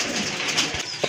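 Indian Lotan pigeons with pink beaks and feathered feet give a soft, brief coo, faint against steady background noise.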